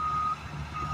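A heavy equipment truck sounds its reversing alarm near a major bridge in the Magsaysay area. A steady high beep starts, breaks off briefly and returns, over a loud, constant engine rumble close by.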